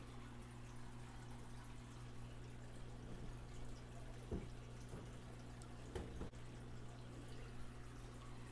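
Water runs quietly through homemade above-tank aquarium sump plumbing, a faint continuous trickle over a low steady hum, with a couple of brief splashy bumps.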